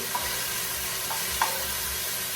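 Onion, carrot and celery soffritto cooks in a pan, with a soft continuous sizzle and a few light stirring clicks, close and without speech.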